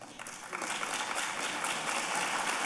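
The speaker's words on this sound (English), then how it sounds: "You all do deserve a round of applause." Audience applause at an academic symposium, a dense wash of clapping that rises in the first half second and holds steady and fairly loud to the end.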